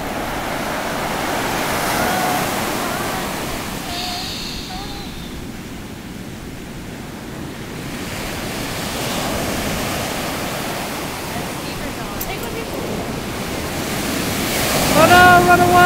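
Ocean surf washing onto the beach at Montauk, Long Island, a steady broad rush of waves under strong wind noise that swells louder near the end.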